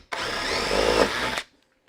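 A power drill with a 1/2-inch bit bores into wood in one steady, close, loud whir that runs about a second and a half and then stops abruptly.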